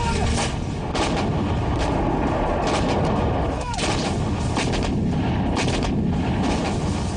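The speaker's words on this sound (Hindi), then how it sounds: "भारत का तोपखाना पहाड़ों में छिपी शत्रु सेना को भी तबाह करने की ताकत से लैस" Repeated heavy Indian artillery blasts thud through a constant loud roar in the mountains, with sharp cracks scattered across the stretch and no clear pauses.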